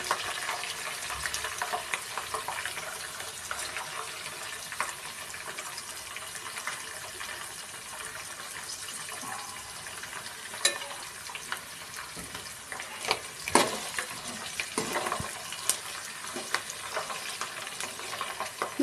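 Tempering for tomato chutney sizzles steadily in hot oil, a continuous crackling fry with scattered sharper pops and a few louder spits near the end, no voices over it.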